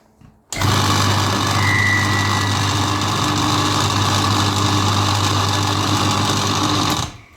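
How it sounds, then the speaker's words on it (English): A Warco A2F milling machine driven by an old table saw motor through a rubber hose coupling runs loudly and steadily for about six and a half seconds, a continuous droning hum that starts and stops abruptly. "we had an old table saw motor, which we made a little universal joint from some rubber hose and fixed it to the wall."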